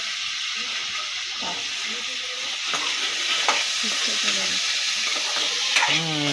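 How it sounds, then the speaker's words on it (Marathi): A pot of dal seasoned with salt, chili and turmeric, with bottle gourd going in, hisses and bubbles steadily while a spoon scrapes and stirs at close range. "डाळ मिक्स झाली मीठ मिरची हळद वगैरे मिक्स करून आता दुधी भोपळा टाकायचा आहे"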